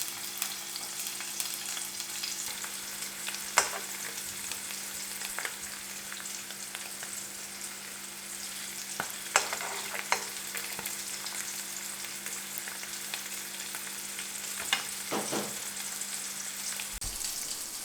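Potatoes frying in an already hot pan, a steady close sizzle with occasional crackles and soft stirring clatters, no voices.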